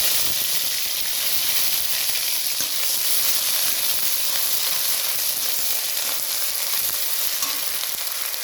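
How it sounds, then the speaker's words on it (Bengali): Onion and garlic paste frying in hot oil over a lowered gas flame, a steady dense sizzle holding evenly close up for the whole stretch, with no talk. "তারপর পেঁয়াজ রসুন বাটা দিতে হবে।"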